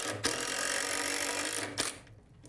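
Power driver sinking a screw into a tool storage cabinet shelf, one steady buzzing whir lasting about two seconds that stops abruptly, heard up close.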